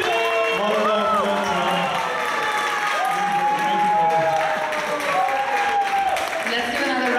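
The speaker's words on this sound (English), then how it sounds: "Let's give another round of applause for all these amazing." Audience applause following a drama play staged in Austin, sustained clapping with scattered voices and whoops layered on top throughout.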